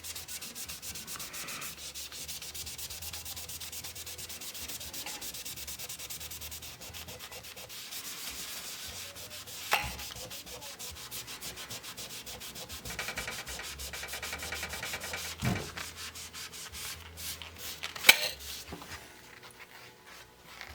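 A magic eraser soaked in alcohol rubs steadily over the playfield of a 1976 Bally Flip Flop pinball machine, a soft continuous scrubbing with occasional small knocks and taps, close and fairly quiet.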